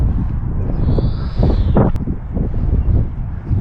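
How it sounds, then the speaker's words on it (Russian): A bird calls from a tree outdoors, a single clear mid-pitched cry standing out briefly over steady wind noise and rustling. "Слышите этот звук? Какая-то птица там непонятно."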